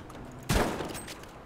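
A single loud gunshot in the video game Battlefield 5, a sharp blast with a short decaying tail, heard alone with no talk.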